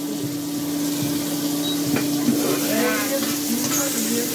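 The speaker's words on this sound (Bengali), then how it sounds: "এর মধ্যে ফুটফাট করে আওয়াজ হচ্ছে, দেখো কি যেন ফাটছে" Vegetables fry in a pan with a steady, fairly loud sizzle and scattered small pops and crackles, while a faint hum runs underneath.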